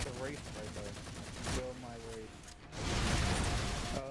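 Halo 4 gunfire during a Spartan Ops mission, with sharp bursts and heavy sustained shooting that swells loudly near the end, while voices talk over the firing.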